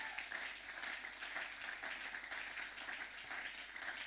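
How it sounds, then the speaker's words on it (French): A church congregation at a Sunday worship service applauds for the glory of God, a steady, dense wash of clapping from many hands that holds at an even level throughout without pause. "Est-ce qu'on peut acclamer pour la gloire de Dieu?"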